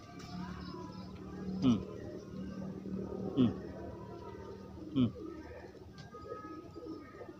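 Sick pigeon with a cold and cough making a snoring, wheezing coo, heard as three short rasping bursts spaced about evenly, close and fairly faint over a low background hum, with a person talking softly.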